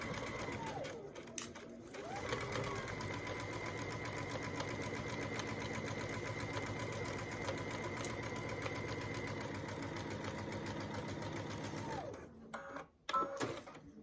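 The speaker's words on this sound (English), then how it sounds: "So we'll sew down this side." A sewing machine runs steadily, stitching quilt rows together along one side, a rapid mechanical whir and clatter close by, starting after a brief pause and stopping near the end with a few handling clicks.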